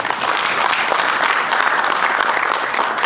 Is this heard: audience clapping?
yes